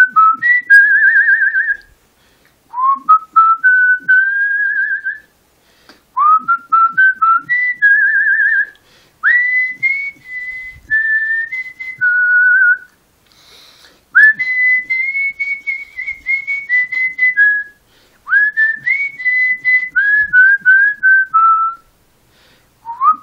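A man whistles a country song, clear close melodic phrases rising and falling in pitch, separated by short breaths and pauses, loud and alone without speech.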